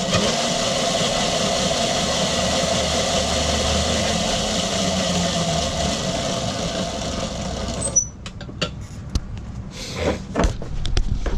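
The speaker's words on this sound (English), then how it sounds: "let's see if I can lift up these damn wheels and turn the throttle at the same time" An electric Razor quad upgraded to 1000 watts, run with its wheels lifted off the ground, gives a steady loud motor whine and drivetrain drone that cuts out abruptly, followed by a few clunks and rattles.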